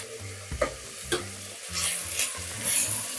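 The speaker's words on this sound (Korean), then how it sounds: "고기의 수분이 날아가고 기름이 어느 정도 나오면은 양파와 파를 넣고 함께 볶아줍니다" Pork with onion and green onion stir-frying in a pot over medium heat, a close, steady sizzle broken by several scraping stirs of a spatula, with no voices.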